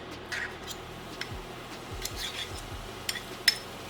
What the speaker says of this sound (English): Okay, we're gonna stir that.